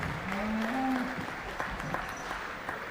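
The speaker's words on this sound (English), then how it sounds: "Give them all a round of applause again." Audience applause at a youth beef cattle show, a sustained wash of clapping from a crowd in a hall, with a voice briefly sounding over it at the start.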